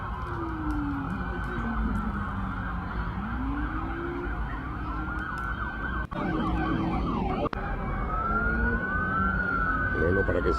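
Several police sirens wail together, rising and falling in overlapping sweeps, loud and continuous amid traffic rumble and faint voices.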